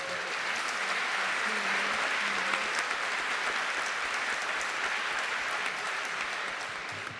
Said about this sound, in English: if they could stand so we could give them a round of applause.